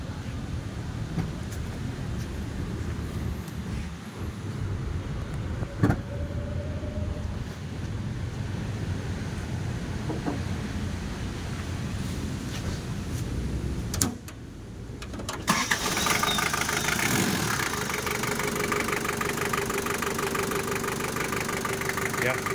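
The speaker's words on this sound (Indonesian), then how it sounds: "kita akan coba hidupin mesinnya" A Daihatsu Taft Hiline Long Family Wagon 4x4 engine turns over about two-thirds of the way in and settles into a steady, rumbling idle, after a stretch of noisy background rumble.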